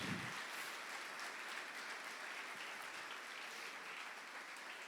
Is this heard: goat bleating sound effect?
no